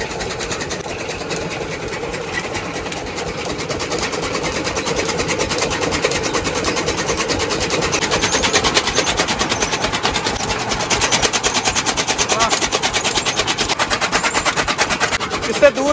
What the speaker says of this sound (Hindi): ये इंजन की आवाज है ना भाई साहब